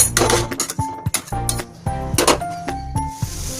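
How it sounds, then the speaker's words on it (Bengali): Metal lid set down over a cooking pan in a home kitchen, a few close clinks and clatters as it settles, sharp and bright with brief pauses between. "এবারে একটু ঢাকা দিয়ে দেবো"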